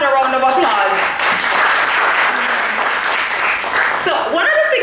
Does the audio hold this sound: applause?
yes